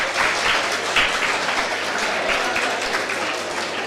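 An audience claps steadily during a lecture on computing history, giving a continuous, moderately loud wash of many hands with slight swells, no voices over it.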